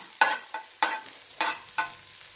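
Onions frying in a pan over a medium flame, with about five short bursts of sizzling as they are stirred, each fading quickly, close and clear with no voices.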